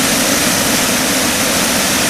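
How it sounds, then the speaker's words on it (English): Water pouring and crashing steadily at the Franklin Roosevelt Memorial fountain in Washington, a loud, continuous broadband rush with no letup and no voices. "So this is what it looks like when the water is actually on."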